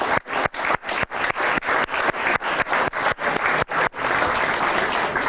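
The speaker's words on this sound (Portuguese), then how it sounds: "Vou-vos pedir uma grande salva de palmas para os vossos colegas" An audience at a self-confidence workshop claps in steady unison, a brisk rhythmic beat of sharp claps for about five seconds before loosening into looser, continuous clapping near the end.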